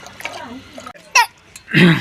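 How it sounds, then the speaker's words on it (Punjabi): Tap water from a tank running into a container, brief splashing and pouring bursts, close and fairly loud, with short pauses between them. "ਪਾਣੀ ਭਰਿਆ ਜਾ ਰਿਹਾ"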